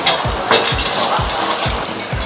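Fish sizzles while frying in a pan, with steady crackling hiss and rhythmic low thumps and scraping as it is stirred or turned, clinks of utensils against the pan repeating at regular intervals.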